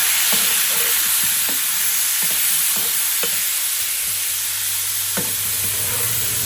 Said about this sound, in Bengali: এখন আমি মশলার মধ্যে ভালো মতো কষাবো।